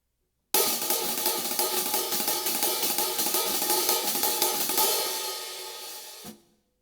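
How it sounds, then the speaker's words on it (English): Extremely fast up-tempo swing on a drum kit hi-hat, the pattern split between right and left hands, plays as a dense, steady metallic wash that runs without talk and then stops abruptly. "One great way to use that left hand underneath the hi-hat is when you're playing extreme up-tempo swing."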